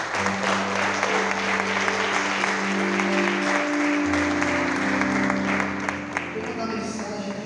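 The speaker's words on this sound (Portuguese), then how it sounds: "Deus, uma salva de palmas a Jesus." A church congregation claps loudly and steadily during a worship service, the applause for Jesus sustained throughout over sung or spoken voices and a low droning instrumental accompaniment.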